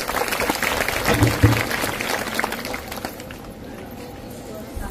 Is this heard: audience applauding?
yes